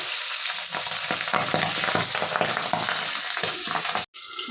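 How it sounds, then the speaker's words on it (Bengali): Pabda fish frying in hot oil in a kadai, with a loud, steady sizzle broken by frequent spluttering pops and crackles. The sound continues throughout and cuts off briefly near the end. "তেল গরম হয়ে গেছে, এখন মাছগুলো এক এক করে ছাড়বো, তবে একটু সাবধানে এই মাছ ফাটে।"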